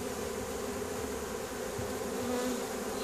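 Honeybees from a caught swarm buzzing and fanning at the entrance of a five-frame nucleus hive, a dense continuous outdoor drone with a steady hum, moderately close and without talk.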